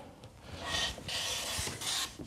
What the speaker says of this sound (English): I'm pushing down basically until I start to get some shavings off of here